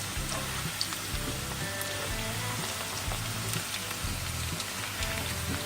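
Potatoes for dum aloo fry in hot oil in a pan, giving a steady close crackling sizzle with no voices over it.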